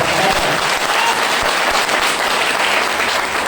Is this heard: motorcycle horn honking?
no